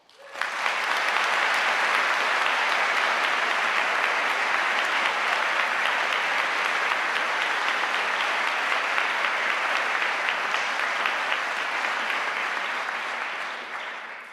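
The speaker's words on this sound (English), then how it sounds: "I would love it if you could join me for another round of applause" A large audience at a university medical school graduation ceremony claps loudly and steadily. The dense applause swells in quickly, holds evenly for over twelve seconds, then begins to taper at the end.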